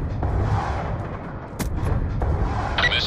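Heavy, booming gunfire from the Lodestar killstreak rifle in Call of Duty Black Ops 2, a few loud low blasts over a dense rumbling war background.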